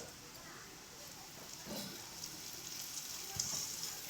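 Spices, Kashmiri red chilli powder and salt sauté in a pan for a hilsa roe bhuna curry, giving a faint, steady frying hiss with soft stirring scrapes, quiet and distant-sounding under low background talk.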